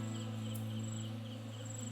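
A swarm of honeybees crowds around a light bulb indoors, giving a faint, continuous buzzing hum that stays even throughout with no voices.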